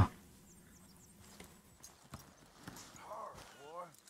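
Horse hooves clip-clopping in Red Dead Redemption 2 at a camp, a few soft scattered hoof knocks against a quiet game ambience, with a brief whinny-like call near the end.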